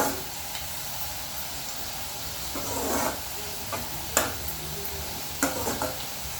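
Frying in hot oil while cooking chicken dum biryani: a steady, close sizzle and hiss, broken by several sharp stirring scrapes and pan knocks, with no speech.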